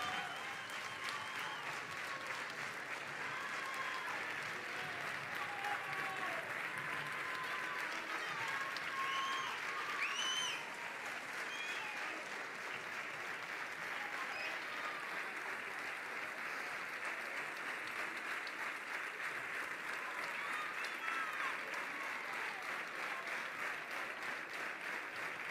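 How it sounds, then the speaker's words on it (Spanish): Theatre audience at the Teatro Cervantes in Béjar gives a standing ovation at a sports awards gala, a dense, sustained applause continuing evenly for the whole stretch, with faint voices beneath. "Fuerte aplauso para él con todo el Teatro Cervantes en pie"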